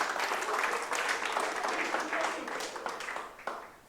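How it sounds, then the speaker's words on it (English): A classroom of students claps for the presenters at the end of their talks, a dense, steady patter of many hands that fades slightly toward the end, with a few voices mixed into the clapping. "Let's give them a round of applause."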